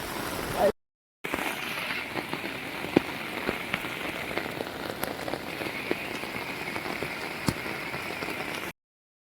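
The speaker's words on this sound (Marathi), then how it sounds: "भरपूर पाऊस आहे" Heavy monsoon rain falls in a flooded Konkan village at Vaibhavwadi, a dense, continuous drumming roar on surfaces, broken only by a brief silent gap near the start.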